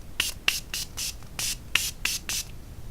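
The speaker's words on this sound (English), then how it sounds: "I'm gonna come back just to spray myself so you guys don't think that I don't ever use, you know, like a setting spray" Morphe Prep and Set setting spray is pumped onto a face in about eight quick, close hissing bursts, each a short airy spritz with a faint click of the nozzle, and no one talks.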